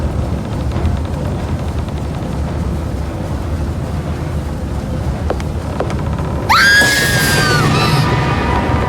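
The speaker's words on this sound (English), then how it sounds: "that scream came from the room behind this door" In the video game Black Sails, a sudden scream rings out from a room behind a door, a loud, sharp cry that cuts in after a stretch of low rumbling ambience and then trails off.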